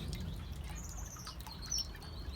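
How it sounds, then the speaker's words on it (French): A Forbes parrot finch calls in an aviary, giving a few thin, high chirps over a steady low background hum, fairly faint and close, with one sharper peep near the end. "le petit forbe, très joli oiseau, magnifique bleu vert avec la queue en rouge"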